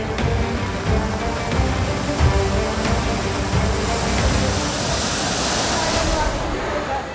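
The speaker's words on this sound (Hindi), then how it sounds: "दहाड़ मारते नाले, तिनके की तरह बहते ऑटो" Floodwater roars through drains in Delhi after record heavy rain, a loud, continuous, close rushing wash that never lets up.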